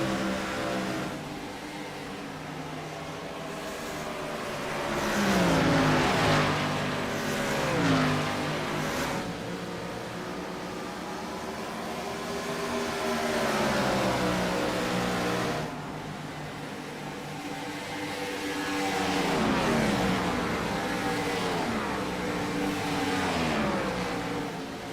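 Race cars in an IROC Challenge Series race at Homestead roar past in repeated waves, engines revving and rising in pitch as they approach, then fading, with several cars overlapping in a loud, continuous engine drone.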